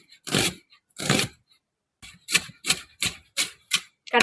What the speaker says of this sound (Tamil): இதோட இல்ல நம்ம 3 வெங்காயம் வெட்டணும்.